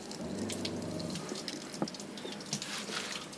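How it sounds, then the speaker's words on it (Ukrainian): Water from a pump-fed tap on a homemade fishing and camping trailer runs in a steady, moderate stream, with a low pump hum underneath and a few faint splashes. "Включили помпу, включили водичку."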